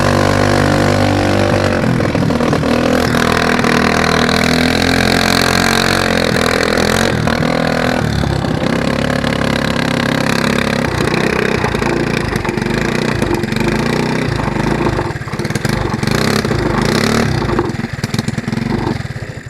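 A go-kart engine fitted with a homemade muffler revs loudly and continuously for about twenty seconds, with a rough, buzzing drone that rises and falls with the throttle; very close, no talking.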